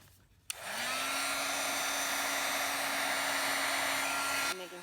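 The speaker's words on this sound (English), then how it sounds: "I'm making sure my heat gun is pretty hot" A heat gun used to heat-set embossing powder switches on with a click and runs as a loud, steady, close blowing roar for about four seconds, then cuts off.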